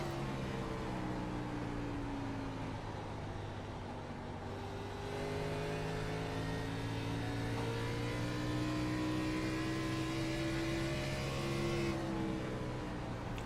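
A race car engine in iRacing's Xfinity Series at Iowa drones and revs continuously, pitch sweeping up and down as the throttle comes back on off a corner, steady and close without a break.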